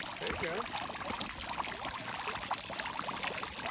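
Water pouring and splashing outdoors near a dog, a continuous busy spatter of liquid with bright droplet hits, fairly close, with a voice faintly mixed in.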